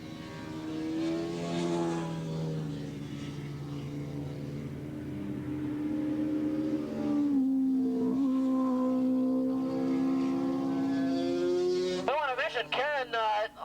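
A Honda 966 racing motorcycle heads into turn 1 at Willow Springs International during a 1985 AFM vintage race, its steady engine drone running beneath continuous race commentary.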